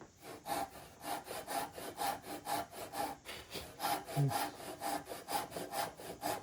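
A hand saw cuts a dovetail into a wooden leg, with rhythmic back-and-forth rasping strokes at a steady pace, close and fairly quiet, continuing throughout with a brief pause midway.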